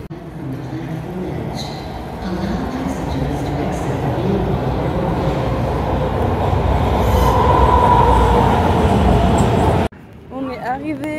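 Rumbling of an Atlanta metro subway train in transit, a steady loud roar with rail noise that swells toward the end before cutting to quieter ambience with brief voices.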